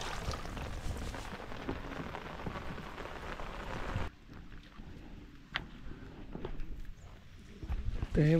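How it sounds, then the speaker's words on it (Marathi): Rain falls over a rice field during traditional Konkan paddy planting, a steady dense hiss that thins halfway through into scattered patter and splashes. "तर हे बघा इकडे पाऊस चालू आहे"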